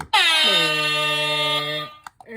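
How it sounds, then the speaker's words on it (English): An air horn sound-effect button gives a single loud, sustained blast lasting nearly two seconds, with a slight pitch drop near the start, then cuts off abruptly, followed by brief faint handling noises. "It's the air horn blast, right?"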